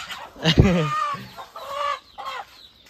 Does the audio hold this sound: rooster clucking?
yes